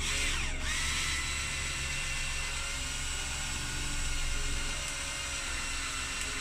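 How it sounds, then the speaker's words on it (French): A power drill drives a screw into a metal plasterboard rail, giving a continuous close, loud whirring drone that holds steady throughout with no talk. "Faut tourner, tourner, tourner le temps que ça accroche dans le métal."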